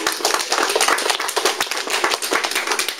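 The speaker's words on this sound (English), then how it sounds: "give yourself a big round of applause for being here this afternoon" Small crowd clapping at an afternoon in-store rock gig at HMV Nottingham, close, brisk individual claps forming a loud, uneven ripple of applause.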